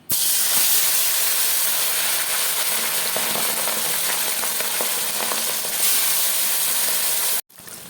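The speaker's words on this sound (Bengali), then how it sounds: "এবারে আমি এগুলোকে এক এক করে কড়াইতে দিয়ে দেবো।" Whole tilapia fish rubbed with salt and turmeric fry in hot oil in a wok, a loud continuous sizzle and hiss with occasional spitting pops, close up and without talk, cutting out briefly near the end.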